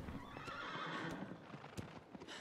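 A horse gallops in the video game Shadow of the Colossus, with rapid hoofbeats and a whinny heard alone at moderate level.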